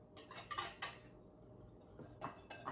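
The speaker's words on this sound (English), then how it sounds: "I'm just whisking that, airing it out a little bit." A metal whisk stirs all-purpose flour in a bowl for cake batter, making quick bursts of light metallic clinks and scrapes against the bowl with brief pauses between strokes.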